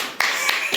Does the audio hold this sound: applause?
yes